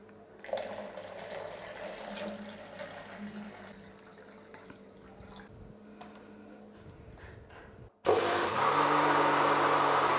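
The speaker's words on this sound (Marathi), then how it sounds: "आता यामध्ये आणखीन पाणी घालूया आपण." Water pours into a ginger drink mixture being made with jaggery, a steady loud splashing that starts abruptly near the end after a quieter stretch of kitchen background hum.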